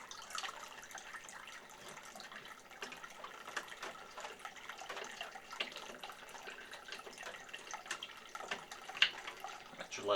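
Water drains and trickles steadily out of the tank of a PC liquid cooling system whose plug has been removed, a faint continuous splatter with scattered drips and no talk.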